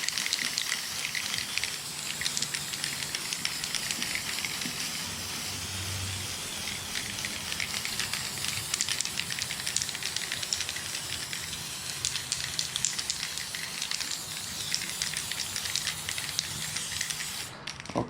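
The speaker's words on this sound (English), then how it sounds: "I always spray off the nozzle a little bit." An aerosol spray paint can hisses in one steady, unbroken jet throughout while coating an RC car body shell for an ARRMA Kraton or Traxxas Sledge. The sound is close and loud.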